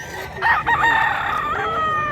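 A rooster crows loudly and close at a chicken market in Mantalungon, Cebu, one drawn-out crow rising and holding, with other fowl and crowd noise underneath.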